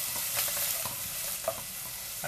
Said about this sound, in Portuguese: O alho já tá ficando douradinho.